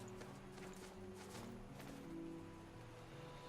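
A horse in the video game Death's Gambit, with soft, steady clip-clop hoofbeats and a faint whinny over a constant low rumble of game ambience, no talking.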